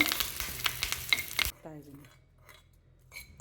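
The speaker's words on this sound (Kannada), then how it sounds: "ಕುದೀತಿರೋ ಸಾರಿಗೆ ಈ ಒಗ್ಗರಣೆ ಹಾಕಿದರೆ" Loud sizzling and spoon clinks from hot tempering of asafoetida and curry leaves, then it cuts off abruptly as it is poured into boiling cucumber buttermilk curry, leaving a quiet hiss and a soft clink.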